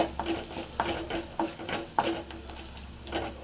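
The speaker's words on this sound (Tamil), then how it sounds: "நீங்கள் எண்ணெயில் போட்டால் அப்படியே கொஞ்சம் பெருசாக வந்துருக்கு பாருங்கள்" Dried turkey berry vathal sizzles and crackles in hot oil in a pan, with a steady frying hiss broken by sharp pops and stirring scrapes about every half second, close and fairly loud.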